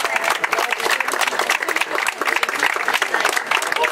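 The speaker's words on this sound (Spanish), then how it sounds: "Los reconocemos con un fuerte aplauso también" A crowd applauds loudly at the inauguration of a paved street, with dense, continuous clapping close by, which makes a busy, rapid patter throughout.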